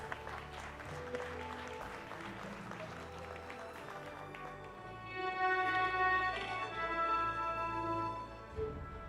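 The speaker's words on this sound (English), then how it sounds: "Let's give them a huge round of applause." Applause from the audience at a national management convention honouring an award-winning association, steady clapping mixed with stage music that swells louder toward the end, heard from a distance.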